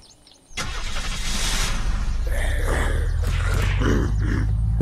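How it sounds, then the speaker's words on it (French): A car engine in the video game Unturned 2 starts abruptly and settles into a loud, steady idle rumble, with faint clunks layered over it. "J'attrape une voiture, je saute dedans, je te rejoins."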